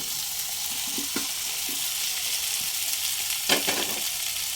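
Fried vegetables tipped into sizzling spice masala in a pan for a pumpkin-leaf and katla fish head chorchori, a steady close sizzle with a few soft stirring knocks and a brief louder burst near the end.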